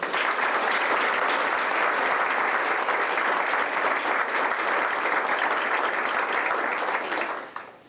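An audience applauds for a team helper at a talk, a dense, steady clapping that holds for several seconds and then tapers off at the end, with no voices over it.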